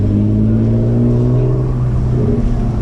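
A BMW E36's engine roars loud and close at high revs while drifting in second gear, a steady droning howl that wavers slightly without letting up.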